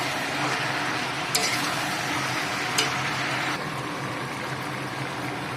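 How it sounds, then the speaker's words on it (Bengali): Green chillies hitting meat frying in a pan, with a steady broad sizzle and stirring scrapes, and two brief sharp clinks of a utensil against the pan; no voices. "আমি এখন কাঁচা লঙ্কাগুলো দিয়ে দিচ্ছি"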